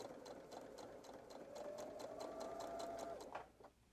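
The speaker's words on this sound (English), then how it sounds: "I'm going to sew across the short end using 1/4 inch seam allowance." A sewing machine stitches a quarter-inch seam across the short end of orange fabric, a quiet rapid needle patter with a faint motor whine that slows and stops near the end.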